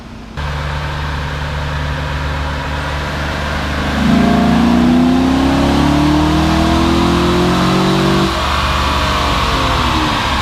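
Car fitted with a cold air intake revving on a dyno, a loud close engine drone that rises steadily in pitch through a pull for several seconds, then drops back to a lower steady hum.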